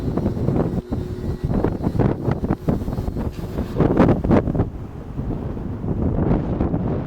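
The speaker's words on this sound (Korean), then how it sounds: "지금 올라오는데 바람이 장난 아니네요" Strong wind roaring across the microphone while riding, heavy, uneven buffeting gusts that swell and ease, loud and continuous, with no clear talking.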